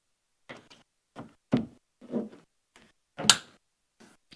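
Several soft, separate clicks and knocks of a plastic window trim clip being pressed into the metal of a 2016-2020 Honda Civic door, close and quiet with pauses between them.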